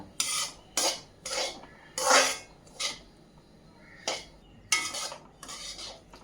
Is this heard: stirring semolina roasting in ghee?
yes